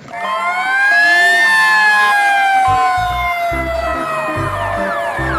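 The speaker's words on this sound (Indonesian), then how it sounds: "Di sini ada mobil pemadam kebakaran." A loud toy fire truck siren wails continuously close by, rising and falling in pitch, with deep engine rumbles pulsing underneath.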